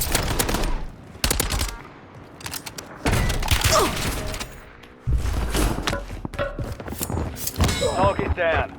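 Heavy explosions and gunfire bursts from a precision airstrike in the video game Warzone, loud and close, arriving as several sharp booming impacts spread through the clip with rattling shots between them.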